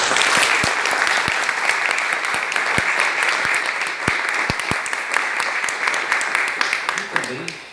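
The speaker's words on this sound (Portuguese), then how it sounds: "E eu gostaria de aproveitar o momento também para a gente fazer uma salva de palmas para a Ana" At an anniversary ceremony, an audience gives a sustained round of tribute applause with a few sharp knocks scattered through it, and a voice briefly begins talking at the very end.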